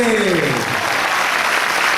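Loud audience applause at a Paraguayan harp day concert, a dense continuous roar of clapping that starts just as a held tone fades, with a voice briefly over the start.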